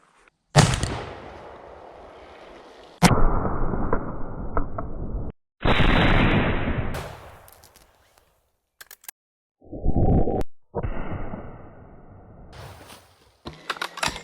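A .70-150 black powder rifle fired into water jugs: loud separate blasts with sharp onsets and booming tails, several bursts spread across the span with quiet gaps between them.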